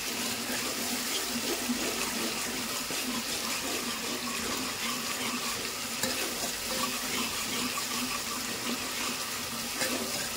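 Ground spices, coriander powder, homemade red chilli powder, turmeric and Kashmiri red chilli, roasting in oil in a pan for a drumstick masala, giving a steady close sizzle and frying hiss with occasional stirring scrapes throughout.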